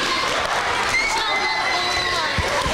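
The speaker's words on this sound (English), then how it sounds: "Give them some applause." Audience at an elementary school music concert applauding and cheering in a hall, a steady wash of clapping and crowd noise at moderate distance.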